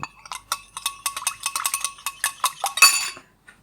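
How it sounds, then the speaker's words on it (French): A spoon clinks repeatedly against a bowl while stirring an avocado, shrimp and grapefruit salad dressed with olive oil, a quick uneven series of bright close taps ending in a louder scrape. "Une cuillère, on mélange bien le tout."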